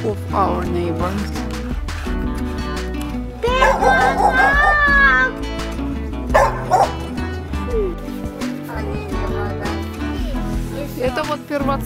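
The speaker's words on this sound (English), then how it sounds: "The new dog of our neighbors." A neighbors' dog barks and yips repeatedly in short bursts nearby, mixed with children's voices and people talking outdoors.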